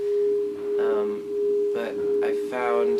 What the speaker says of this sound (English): I wanted to experiment with a phenomenon called beats, which is basically phase cancellation between 2 sine waves that are slightly out of tune.